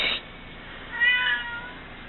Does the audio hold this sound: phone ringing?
no